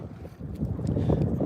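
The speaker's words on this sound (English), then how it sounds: "Sounds pretty windy out there." Steady gusty wind rumbles and buffets against the microphone in a roadside ditch while bass fishing, a continuous low roar that swells slightly toward the end, with no voices.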